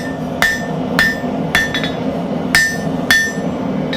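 A blacksmith hammers the sides of a can tab opener square on an anvil: six sharp, ringing metallic strikes at uneven intervals, close and loud over a low background hum.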